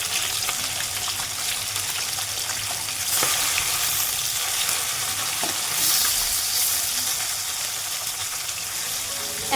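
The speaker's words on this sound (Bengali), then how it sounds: "তেলটা আমার খুব গরম হয়ে গেছে একদম ধোয়া উঠছে" Fish frying in very hot, smoking oil in a pan makes a loud, continuous crackling sizzle, close and steady throughout with occasional louder spatters.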